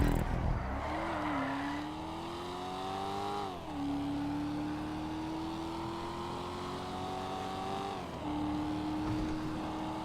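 Vapid Hustler in Grand Theft Auto 5 driving steadily, its engine droning loud and continuous, pitch climbing through gears with brief dips at shifts, no talk over it.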